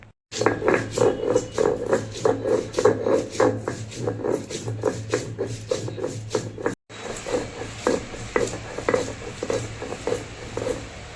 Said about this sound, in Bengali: 2 টেবিল চামচের মতো জিরা, আর 1 টেবিল চামচের মতো ধনিয়া আর রসুন। এগুলো আমরা পাটায় বেটে নিব।